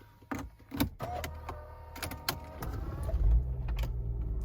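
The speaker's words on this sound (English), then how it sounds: "To start it up, I'm going to put my foot on the brake." A 2007 Mercedes-Benz E350 4Matic with low miles starting up: a few sharp clicks and knocks, then the engine cranks and catches into a low, steady rumble that continues to the end.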